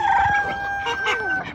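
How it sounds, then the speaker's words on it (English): Chickens on an exotic animal ranch, a close rooster-like call and clucking lasting a second or so, loud and clear with little else around. "We got all the ducks and chickens."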